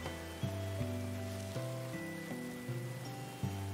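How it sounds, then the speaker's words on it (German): Steady rain hisses in the medieval colony-building game Going Medieval, a soft continuous wash under a looping low musical tone, with no talking. "Er steht halt wieder im Regen."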